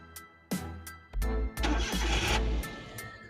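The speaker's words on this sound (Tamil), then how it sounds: "வண்டி ஸ்டார்ட் பண்ணி பார்த்துலாங்க." A used car's engine cranks with a few short starter bursts, catches and settles into a rough running idle, close and loud with no talk.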